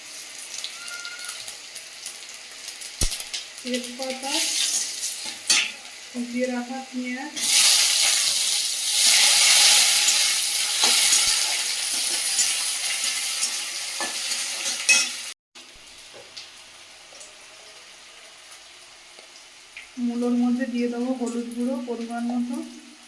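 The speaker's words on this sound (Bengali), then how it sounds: "এদিকে তেলটা গরম হয়ে গেছে তেলের মধ্যে দিয়ে দেবো পাঁচ ফোড়ন" Panch phoron spices crackle and sizzle in hot oil, swelling into a loud steady hiss before fading, with short stirring sounds.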